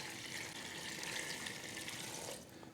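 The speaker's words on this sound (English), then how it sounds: "Now I need fresh water to come up to the fill line." Fresh tap water runs into an Instant Pot up to its fill line, a continuous, fairly quiet splashing stream heard close with no talking, easing slightly near the end.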